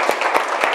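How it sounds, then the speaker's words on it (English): A group of students applauds in a classroom, a short burst of dense, steady clapping with a few sharper individual claps standing out. "So please clap for yourself."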